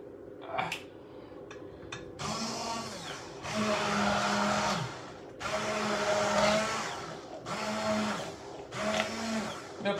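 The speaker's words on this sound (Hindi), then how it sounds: "इसको आपने हैंड ब्लेंडर या मशीन, कोई ब्लेंडर पीस लीजिएगा" A hand blender whirs in several bursts of a few seconds each, blending a raw mango drink, pausing briefly between them, after a few clinks at the start.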